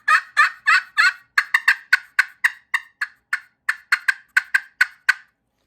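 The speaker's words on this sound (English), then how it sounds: "So that cut are clucks that are really loud and close together" A series of loud, sharp clucks in quick succession, close and rapid, a turkey hen cutting with no other sounds.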